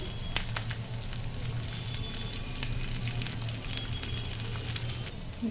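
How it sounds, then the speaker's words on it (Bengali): Chopped onion frying with grated ginger and chillies in a hot pan, an even crackling sizzle that holds steady at moderate volume, no talk. "একটা ছোট সাইজ পেঁয়াজের কুচি দিয়ে দিলাম"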